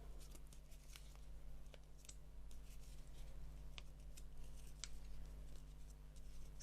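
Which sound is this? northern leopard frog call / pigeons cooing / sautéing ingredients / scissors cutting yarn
scissors cutting yarn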